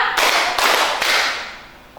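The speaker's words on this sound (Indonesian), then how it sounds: "Tepuk tiga." A group of children claps three times together in a counting rhythm game during a class lesson. Each clap is a loud, sharp burst, evenly spaced about half a second apart, and the last one fades into quiet.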